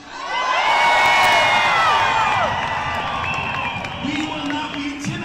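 A crowd at a US protest against Trump and Musk cheers loudly, with whoops and shouts swelling to a peak, then easing into a lower, continuing clamour.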